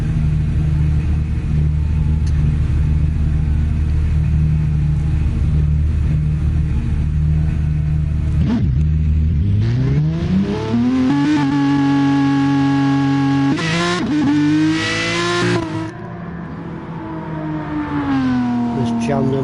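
Race car engines in a PS4 racing game rumble steadily, then rev up with rising, sweeping pitch as the cars pull out onto the track, loud and close, with commentary voices talking over them.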